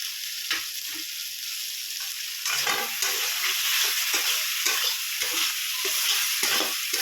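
Spice paste for a Bengali fish curry being sautéed in a pan, a steady close sizzle broken by repeated scraping stir strokes throughout, growing slightly louder midway, with no voices.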